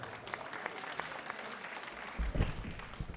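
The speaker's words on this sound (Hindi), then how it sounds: "जोरदार तालियों के साथ" An audience at a World Bindi-Tilak Day gathering claps for a speaker, a faint, scattered patter of hands in a reverberant hall that swells slightly toward the end.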